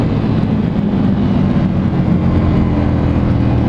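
A Ducati Scrambler 1100 Special motorcycle engine accelerates with a loud, close, continuous low rumble and no voices.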